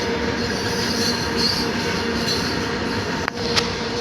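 A passenger train rolling past on railway tracks at dusk, a loud, steady rumble and rattle with squealing wheels and a couple of sharp metallic clanks near the end.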